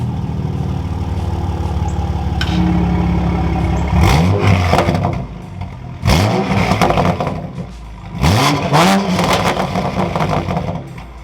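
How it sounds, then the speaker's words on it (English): An A90 Toyota Supra with a Magnaflow X-Mod active exhaust idles, then revs sharply three times with loud crackling exhaust bursts, each rev rising and dropping back, close and powerful. "So we'll do a little rev this way and then see what sport mode's like."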